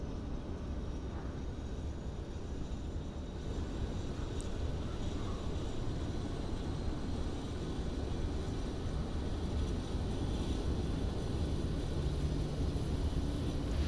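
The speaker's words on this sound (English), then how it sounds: "Let's have a listen to the APU." Auxiliary power unit of a PMDG 737-800 in Microsoft Flight Simulator 2024, a steady low turbine roar and hum running continuously at moderate level without change.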